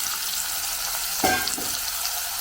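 Onions fry in oil with changalamparanda (Cissus quadrangularis) in a pan, making a steady, close hiss of sizzling with a brief stirring scrape partway through.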